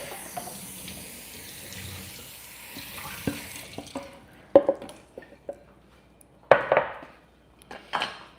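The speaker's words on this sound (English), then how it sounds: "Let me rinse this off." Kitchen tap running as something is rinsed under it, a steady hiss of flowing water that stops partway, followed by sharp splashes, drips and clinks in the sink.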